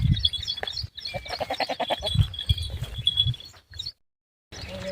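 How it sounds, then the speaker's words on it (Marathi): Several goats bleat in quick, wavering cries close by on a farm field in the morning, overlapping with scattered rustling, then a brief silence before more noise. "आणि बघा आमच्या माझ्या पण शेळ्या लागले येत आहेत"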